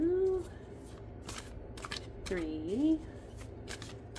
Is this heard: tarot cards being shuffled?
yes